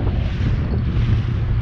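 A light wind blows steadily across the microphone aboard a small fishing boat at sea off Marseillan, a constant close rushing hiss and rumble without speech.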